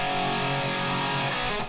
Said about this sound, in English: This is with the reverb and the Harmonizer on.